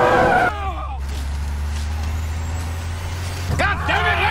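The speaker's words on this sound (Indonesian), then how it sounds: "Jelas truk pun oleng dan Will segera mengambil alih kemudinya karena truk akan menabrak." A truck lurches and swerves in a film action scene as a storm closes in, its heavy engine rumbling steadily up close between bursts of dialogue at the start and end.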